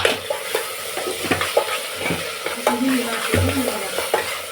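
Vegetables for khichdi frying in a pan and stirred, giving a steady sizzle with scattered scrapes and knocks of the stirring utensil, close by and alone.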